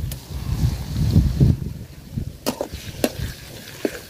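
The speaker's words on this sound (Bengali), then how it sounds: "তো মশলাটা আমি সুন্দর করে ভাজা নিছি।" Ground spice paste with onion and green chilli fries in a pot on a windy outdoor stove, a low crackling sizzle with gusty rumble, heavier at first, then sharp clinks of a spoon scraping the pot.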